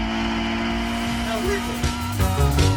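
Clubmans sports prototype race cars at Snetterton howl through a corner in a loud, sustained engine drone that climbs in pitch as cars pass, with a commentator talking over the racing.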